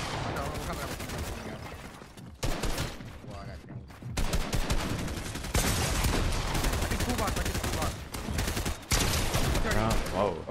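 Rapid automatic and shotgun fire in a Fortnite match, dense bursts of gunshots rattling in clusters with brief gaps, mixed with game effects.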